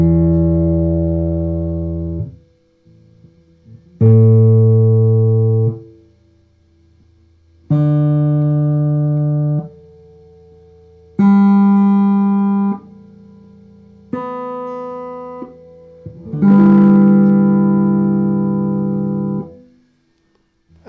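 Six separate guitar notes are plucked and sent through a DIY NRF24L01 wireless guitar system, each a clean sustained tone ringing about two seconds before stopping, with short silent gaps between them.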